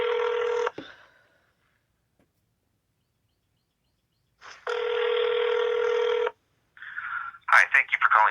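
Telephone call placed to a news director, with a steady ringback tone repeating twice with a silent gap, then short electronic tones and a voice speaking at the end.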